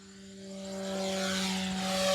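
A Goosky S2 Legend RC helicopter flies with a steady, high-pitched motor and rotor whine that grows slightly louder as it approaches, with no talking.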